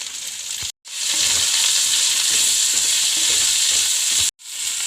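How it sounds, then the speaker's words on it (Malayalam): Onion and green chillies frying in a pan, a loud, close, continuous sizzle that cuts out briefly twice, with stirring and no speech. "പച്ചമുളക് സവോള പച്ചമുളക് വാടി വറുത്ത്"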